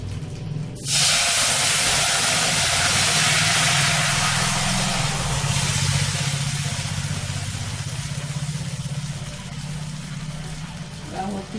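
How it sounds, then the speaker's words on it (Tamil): Ghee heating in a nonstick kadai for a ragi and palm jaggery halwa gives off a loud, steady sizzling hiss that starts abruptly and carries on close up for about eleven seconds. "நெய் காயுது"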